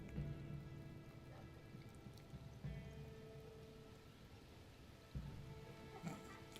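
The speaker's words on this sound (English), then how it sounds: "it's raining in the game" Rain patters softly and continuously in Red Dead Redemption, a faint, even hiss of drops on surfaces with a few slightly louder splashes and no talk.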